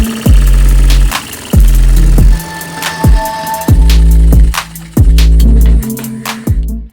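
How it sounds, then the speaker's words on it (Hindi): A miniature homemade air/steam engine runs with loud, rhythmic knocking strokes, each a heavy thump followed by a falling mechanical whir, repeating about once a second close by with metallic clatter between beats. "अब हम जैसे स्विच को खोलकर व्हील को थोड़ा सा घुमाएंगे वैसे जो हमारा इंजन है वो कुछ इस तरह से चलने लगेगा"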